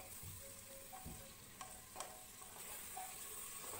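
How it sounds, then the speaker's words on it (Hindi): Onions frying in oil in a pressure cooker over a high gas flame for mutton do pyaza, a steady close sizzle with a few soft clinks of a spoon stirring. "प्याज को डालने के बाद जो आपकी गैस की फ्लेम होगी आप उसको हाई कर देंगे और इन प्याज को हम फ्राई कर लेंगे 3 से 4 मिनट तक"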